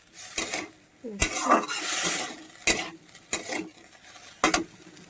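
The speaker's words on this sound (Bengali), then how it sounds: "আলুগুলো দিয়ে দিচ্ছি, আলুগুলো দিয়ে ভালো করে মিশিয়ে নেব।" Boiled potatoes being mixed into a frying pan of white potato curry, with sharp intermittent scrapes and clinks of a spatula against the pan over a soft sizzle, close by.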